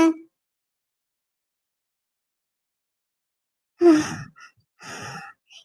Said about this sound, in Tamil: இப்பவே நல்லா மூச்சு வாங்குதுங்க